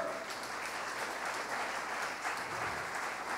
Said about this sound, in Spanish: ¿Cuánto le dan un fuerte aplauso a Dios?